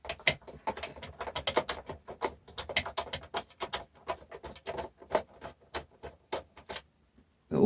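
Small bolts are undone inside a scrapped food mixer, giving a quick run of sharp metallic ticks and clicks in uneven bursts, close and fairly quiet with no talking.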